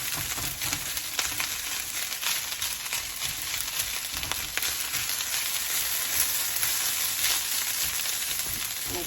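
Chopped scrambled eggs sizzle in a hot stir-fry pan, a steady close crackle running throughout, with faint scraping and stirring marks now and then.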